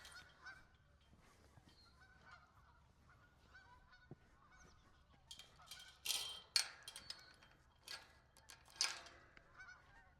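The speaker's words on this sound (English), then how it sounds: "Got lots of Canada geese as well" Canada geese honk across a 9-acre rural property in fall, several scattered bursts of calls, mostly in the second half, sounding somewhat distant over a quiet outdoor background.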